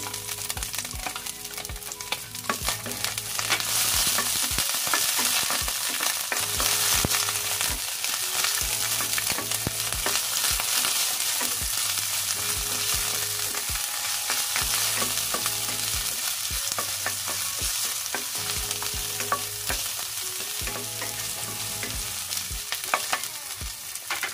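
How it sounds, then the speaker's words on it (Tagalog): Onion frying and being stirred in a pan: a steady, loud sizzle with crackling oil runs throughout, punctuated by rhythmic scraping and clanking of the utensil against the pan. "Unahin natin ang ating onion guys para hindi masunog ang ating garlic"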